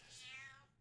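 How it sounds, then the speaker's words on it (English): A pet cat gives one short, quiet meow, alone and close by, sliding downward in pitch before fading. "Hello, Maddie. That's my cat."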